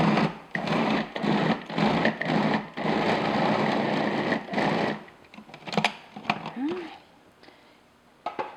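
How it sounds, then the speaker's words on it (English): A food processor pulses full-fat cream cheese in a series of loud, short mechanical whirring bursts for about five seconds, followed by quieter clatter and handling sounds. "I'm just going to pulse this until it's nice and creamy and smooth."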